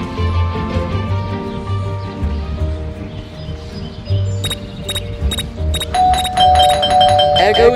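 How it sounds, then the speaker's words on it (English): A game doorbell in Scary Teacher 3D rings over a looping game soundtrack, with several sharp bright chimes clustered near the end, loud and close. "There goes that stupid bell again!"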